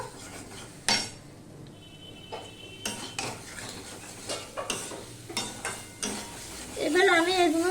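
Broccoli stalks added to a pan and stirred while frying for a catfish and broccoli curry, with clattering utensil strokes against the pan and a steady sizzle that rises louder toward the end.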